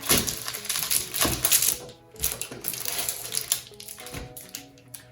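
The metal clasp of a springform baking tin is worked closed over a parchment-lined base: close, dry metallic clicks and rattles in short bursts with brief pauses between.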